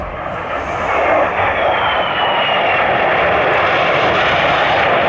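Turkish military fighter jet engines make a loud, continuous roar of broad rushing noise that swells slightly early on and then holds steady, close and without talk.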